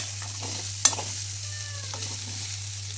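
Pasta being stirred in a pan at home, a low steady sizzle with a few soft scrapes and one sharp clink of the spoon against the pan, fairly quiet and without talking.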